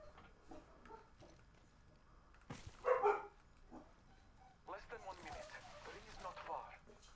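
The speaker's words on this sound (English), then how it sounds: "Yeah, the dogs are going nuts." Dogs barking and yelping at a house as a car comes up the driveway in a game, in short bursts that rise in the middle and come back near the end, with voices talking around them.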